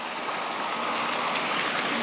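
Hot water pours steadily into a river, a continuous broadband rush of flowing water with no voices, even and moderately loud throughout.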